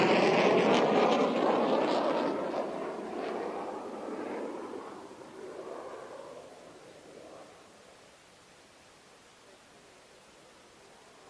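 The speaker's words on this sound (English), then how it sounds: "Final departure and away from the Hawker Hunter." A Hawker Hunter jet departs at an air display, its broad roar loud at first and then fading steadily into the distance.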